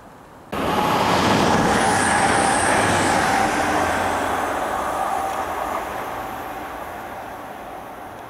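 A Pendolino express train races through Euxton station in Lancashire, UK, bursting in loud and close with a broad rushing roar that stays strong, then slowly fades as it passes.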